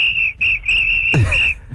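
A person whistles a steady, high, shrill tone in three sustained bursts with short gaps, then a brief sweeping rustle and thump break in near the end, on a radio show.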